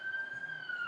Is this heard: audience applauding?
no